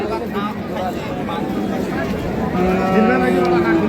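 Cattle at a livestock market give a drawn-out moo close by near the end, over a busy background of people talking.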